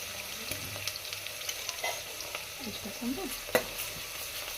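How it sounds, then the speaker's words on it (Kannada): Sliced onion and green chillies frying in a pan at home, a soft continuous sizzle with occasional scrapes and stirring clinks of a spoon, close and fairly quiet. "ಉಳ್ಳಾಗಡ್ಡಿ ಆಮೇಲೆ ಒಂದೆರಡು ಮೆಣಸಿನ್ಕಾಯಿನ ಹಾಕೊಂಡು ಫ್ರೈ ಮಾಡೋಣ ರೀ"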